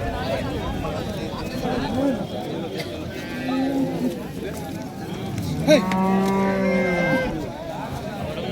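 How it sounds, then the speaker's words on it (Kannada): Holstein Friesian cross cows mooing nearby, several long drawn-out lows in succession, with people talking in the background of a busy outdoor cattle market. "ಹಸು ಹಂಗೆ ಇಲ್ಲೊಂದು ಎಚ್ ಎಫ್ ಕ್ರಾಸ್ ಇದೆ"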